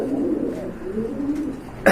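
A pair of Mumbai Golap pigeons coo softly in a steady, low murmur close by, with a brief louder rustle at the very end.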